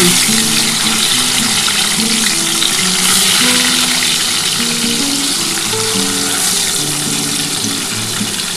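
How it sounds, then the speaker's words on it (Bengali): Pieces of pomfret fish fry in hot oil with a loud, continuous, close-up crackling sizzle that holds steady throughout, with no speech. "এবার আমি কিন্তু যে কটা আছে ভেজে নিচ্ছি।"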